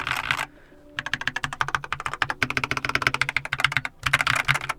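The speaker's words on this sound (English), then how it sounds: "when it comes onto the keyboard, this sounds the most hollow." Rapid typing on a Keychron K8 mechanical keyboard with lubed switches, close and crisp, with a steady run of hollow-sounding keystrokes broken by a couple of brief pauses.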